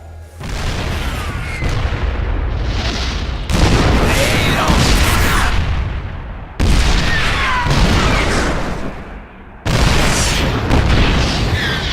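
Siege tanks in StarCraft II pound Protoss cannons with heavy artillery booms, four loud blasts spaced a few seconds apart, each followed by rumbling, crackling explosion noise.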